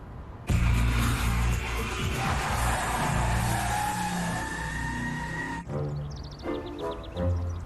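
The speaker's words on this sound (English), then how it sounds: "it's like triggering me to fucking hear the constant car crashes now" Repeated car crash sound effect from Canada's Worst Driver, a TV show: loud, dense crashing and skidding noise running almost without pause for several seconds, then a shorter burst of rattling impacts, with no talk over it.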